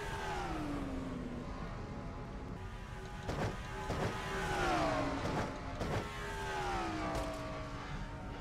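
Stock cars race at Dover in a racing video game, several engines droning steadily with rising and falling pitch sweeps as cars pass, building to a louder stretch mid-way and continuing without talk.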